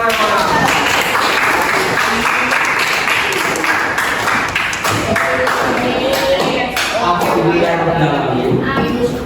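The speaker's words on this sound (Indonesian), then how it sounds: "Tepuk tangan semuanya." Students in a grade 8 classroom applaud during a lesson on discipline, with loud, uneven bursts of hand claps and taps mixed with the chatter of children's voices throughout.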